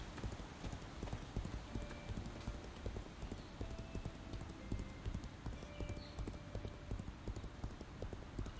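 Steady clip-clop of horse hooves in the video game Legends of Aria, at a brisk walking rhythm, close and continuous, with soft ambient noise behind.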